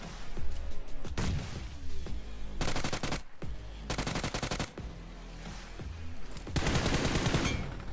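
Gunfire in the BGMI mobile video game: several bursts of rapid automatic fire with single shots in between, loud and close, separated by short pauses, with no talking.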